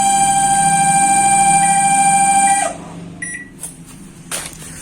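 A microwave oven gives off a loud, steady high-pitched whine with several sustained tones for over two seconds, then cuts out, leaving faint clicks and light handling sounds.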